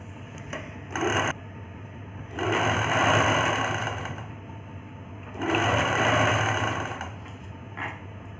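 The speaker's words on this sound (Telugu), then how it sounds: "ఇక్కడి నుంచి నేను ఇలా నీట్గా పట్టుకుని ఒక స్టిచ్ వేసుకుని వచ్చేస్తాను" A sewing machine stitches a blouse sleeve in steady whirring runs, two long bursts and a few short ones, close and continuous over a low background hum.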